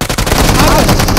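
UMP submachine gun firing in BGMI during a LAN esports grand final: loud, rapid bursts of gunfire in quick succession, heard under an excited commentator's voice.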